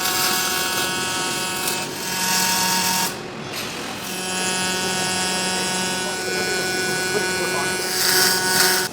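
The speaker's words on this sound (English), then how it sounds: "As you can see here, I got some stitch welds around my lip." A cone liner is stitch welded along its lip in a workshop, a steady close buzzing crackle of short welds running nearly continuously with a brief pause, while someone talks over it.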